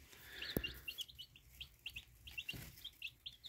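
Newly hatched chicks peep in a rapid series of short, high chirps, close and fairly clear, with a soft thump in the background.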